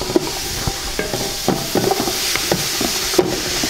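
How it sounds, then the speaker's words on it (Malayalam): Pineapple being stirred in a hot pan for fish biryani: a spoon scrapes and taps against the metal in uneven strokes over a faint, steady sizzle, close and fairly loud. "ചൂടായി കഴിഞ്ഞ് ഒന്ന് ഇളക്കി കൊടുക്കുക, ചെറുതായിട്ടൊന്ന് ഇളക്കി"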